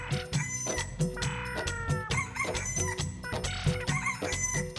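Several free-range country chickens cluck and squawk in steady, overlapping bursts in cotton fields, with a rooster-like call rising briefly among them, close and fairly loud.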